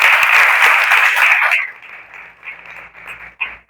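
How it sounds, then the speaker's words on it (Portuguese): Parents at a school meeting receive a burst of close, lively applause that fades out after about a second and a half, leaving a few scattered claps and room noise. "Então, eu quero uma salva de palmas para vocês também"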